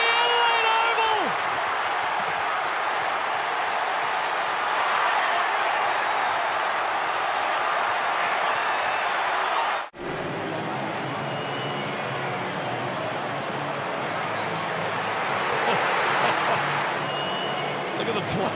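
A large stadium crowd roars and cheers at an AFL match at Adelaide Oval, a loud, sustained wall of noise broken by a brief cut midway and then continuing just as strongly.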